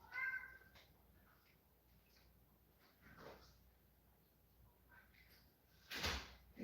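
A house cat meows at a door, a few faint, scattered calls spread across a quiet room, with a louder knock or door sound near the end and no talk.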